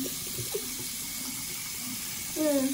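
A tap runs steadily for rinsing a mouth, a constant close rush of water filling a sink, with a brief voice near the end.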